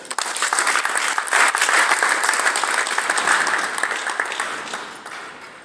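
A crowd at a village-level Kwibohora 29 Liberation Day gathering in Rwanda claps in dense, sustained applause for several seconds, holding steady before gradually tapering off.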